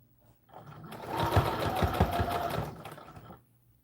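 Home sewing machine stitching the bodice of an American Girl doll dress in one continuous burst of about three seconds, close and clear, starting and stopping cleanly.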